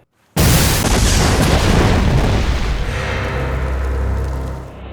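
A film explosion erupts with a sudden loud boom, then a long roaring rumble and debris wash that sustains for several seconds before tapering off, with no voices.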